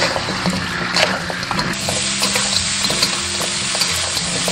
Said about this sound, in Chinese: 1勺老抽上色，1勺蚝油，然后翻炒均匀